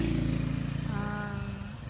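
A motorcycle engine idles and revs nearby in a village setting, its low throbbing drone holding steady before a rising whine as it pulls away, with faint voices underneath.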